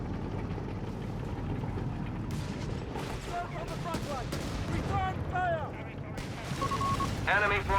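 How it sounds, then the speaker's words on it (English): A British 6-pounder anti-tank gun firing at a Wirbelwind in the Company of Heroes 3 video game, sharp cannon reports among a dense battle din of shots and machinery, with a commentator talking over it. "6-pounder gun scores a beautiful shot there on the Wirbelwind"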